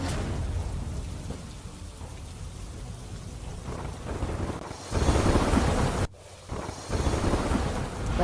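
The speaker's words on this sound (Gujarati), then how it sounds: "ધોધમાર વરસાદ થતાં જનજીવન પ્રભાવિત થયું." Heavy monsoon rain pours down steadily in Navsari, Gujarat, with deep rolls of thunder rumbling through the downpour and wind buffeting the microphone. The roar drops briefly before surging again.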